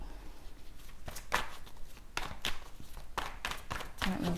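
Tarot cards being shuffled by hand, a series of quiet, close riffles and soft slaps in irregular bursts over low room noise.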